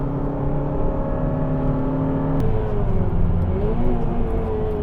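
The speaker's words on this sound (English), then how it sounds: "I missed a gear, went straight to 5th." A Honda Civic Type R or Suzuki Swift Sport hot hatch drones on a race track after a missed shift straight into fifth gear, its engine holding a steady hum that drops in pitch partway through, then slowly climbs again, loud and close.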